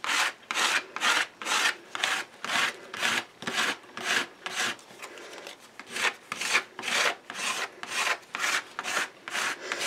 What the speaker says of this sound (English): I take a gift card or an old credit card or whatever, and I use it to scrape the gesso across my page here